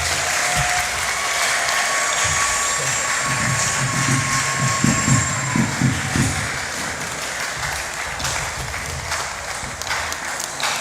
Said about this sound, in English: We keep clapping until he takes his seat.